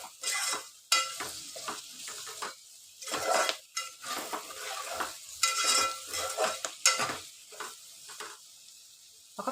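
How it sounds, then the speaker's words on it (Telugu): Spices stirred and fried in oil for a bottle gourd dal, with close scraping and stirring strokes in the pan over a steady sizzle, coming in irregular bursts with brief pauses. "మళ్ళీ ఒక 2-3 నిమిషాలు ఇవన్నీ మంచిగా వేగించుకోవాలి, ఫ్రై చేసుకోవాలి ఆయిల్లో"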